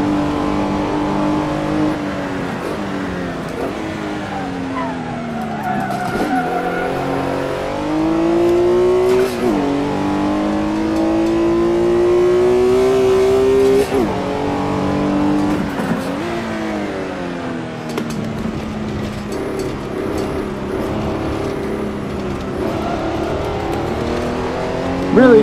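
A Porsche 911R, rear-engined and rear-wheel drive, revs hard in a racing sim around the Nürburgring, its engine note climbing and falling through gear changes for a sustained loud stretch with no talk over it.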